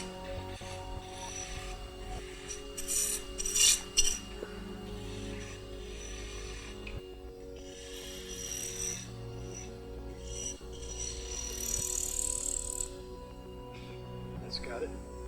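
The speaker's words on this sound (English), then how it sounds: "So I'm going to go back and use my spindle roughing gouge" A spindle roughing gouge shapes wood on a lathe with a copper ferrule glued on, giving scraping, rasping cuts over the motor hum while a person talks intermittently.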